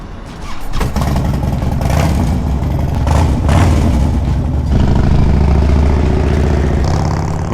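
A Harley-Davidson motorcycle engine fires up and keeps running, a loud, close, continuous low rumble with uneven surges in throttle and no talking.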